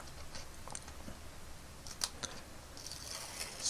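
Double-sided tape being peeled by fingernail from a Star Wars vintage Kenner/Palitoy re-card kit, coming off in pieces: quiet, close crackling and soft sticky tearing with a few sharp little snaps, no talking.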